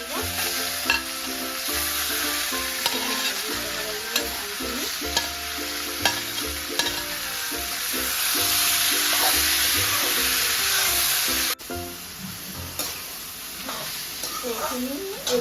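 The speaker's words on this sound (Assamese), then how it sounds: "ইয়াতে মই এইখিনি আমখিনি ধুনীয়াকৈ ঢালি দিছোঁ। আমখিনি অলপ ভাজি ল'ব লাগিব।" Mango pieces frying in hot oil for sweet mango pickle, with steady crackling sizzle and repeated stirring scrapes of a spatula in the pan, close and continuous throughout.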